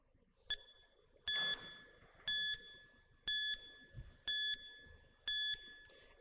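A quiz timer beeps repeatedly in a quiet room: six sharp, high electronic tones, the first a brief blip and the rest short held beeps, spaced about a second apart.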